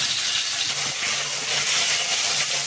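Chopped tomatoes go into a pan of hot oil tempered with whole garam masala and two bay leaves, setting off a close, continuous sizzling hiss with no voices over it.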